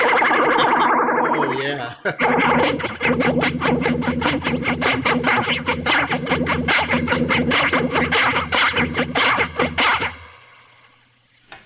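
Electric guitar through Electric Mistress and Longamp Roxanne flanger pedals, opening on a sustained sweeping chord, then a long run of fast, evenly repeated strummed stabs with swirling, jet-like modulation, fading out at the end; a voice briefly speaks.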